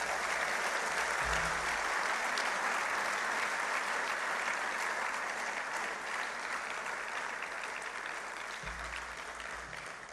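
Sustained audience applause at a police commissioner's farewell ceremony, a dense steady wash of many hands clapping that runs the whole time and fades slightly toward the end.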